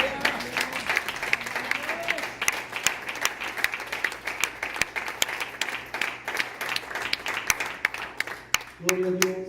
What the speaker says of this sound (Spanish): ¿Por qué no le da un aplauso a nuestro Señor?